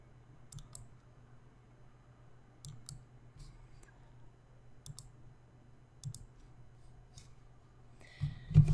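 Computer mouse clicks while tracing walls of a floor plan in SketchUp LayOut, faint, isolated and spaced irregularly over a quiet hum.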